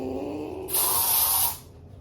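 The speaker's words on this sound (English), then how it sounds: "I only buy spray air fresheners for the bathroom" A watermelon-scented aerosol air freshener sprays once in a bathroom, a loud close hiss lasting under a second that stands out over a faint background hum.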